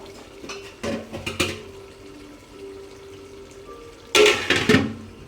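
A metal lid is set onto a pot of meat simmering on a low flame for tehari. It gives a couple of clattering clanks, then a quiet pause with faint cooking noise, then a louder clash of metal.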